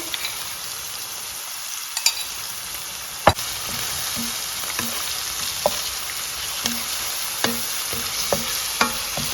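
Ginger and garlic frying with a little salt in a pan for a mushroom and pea curry make a continuous bright hiss of hot oil, punctuated by sharp spatula clinks and scrapes, close and with no talking.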